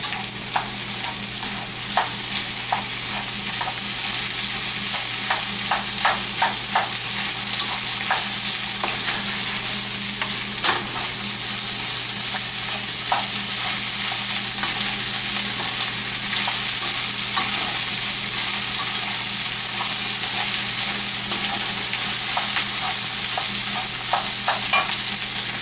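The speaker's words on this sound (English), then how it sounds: "Just bring it in and start mixing your fried rice." Leftover fried rice being stir-fried and mixed in a hot pan, a steady loud sizzle throughout with repeated scraping clicks from stirring.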